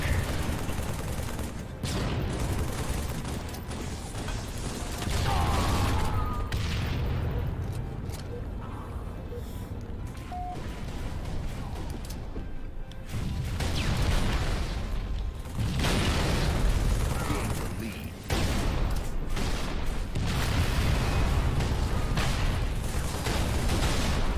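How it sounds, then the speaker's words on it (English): Bombs and grenades explode with heavy booms amid continuous gunfire in a Halo 3 co-op Slayer match on the Foundry map, a dense, loud barrage that keeps going with brief lulls. "a lot of bombs going off"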